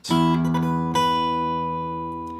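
A few quick fingerstyle guitar notes from The Road to Lisdoonvarna in a short rhythmic figure, then a chord left ringing and slowly fading.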